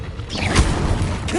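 The Confringo fire spell is cast in Hogwarts Legacy: one quick whooshing cast lands in a dull thump and crackling burst, all within about a second and a half.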